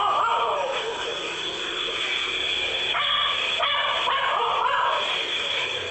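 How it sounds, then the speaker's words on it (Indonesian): Small dog barking a few times in quick, yelping bursts near a doorway, over a steady bright background hiss; the barks are not sharply separated and blend with the noise. "Dia berhenti berlari di depan pintu itu, lalu menggonggong beberapa."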